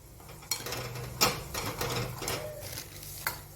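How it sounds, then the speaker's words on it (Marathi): Mustard and cumin seeds sizzle in hot oil in a pan with peanuts, a soft crackling fry broken by a few clinks and stirring sounds, heard close and quiet. "मोहरीचे दाणे घातले जिरं पण घातलं"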